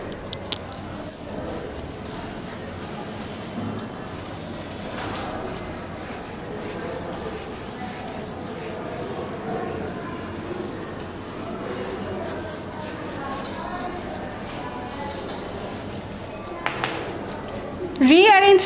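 A teacher wipes writing off a board in a nursery English class, a steady soft rubbing that runs nearly throughout at moderate level, with a louder scrape and clatter near the end.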